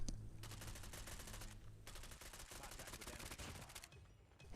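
Sustained rapid assault-rifle fire in a shooter video game, dense automatic bursts nearly continuous for several seconds with brief gaps, loud and close throughout.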